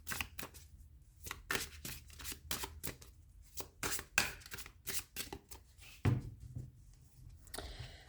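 Tarot de Villeneuve cards shuffled by hand, a close series of quick, crisp riffling bursts separated by short pauses, quiet overall with no talking.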